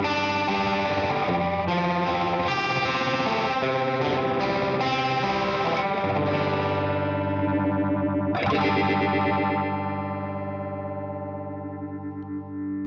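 An electric guitar runs through an orange phaser pedal into a Soldano amp, held chords swirling with a faux Leslie rotary shimmer, loud and up close, then a fresh strum that rings out and slowly fades.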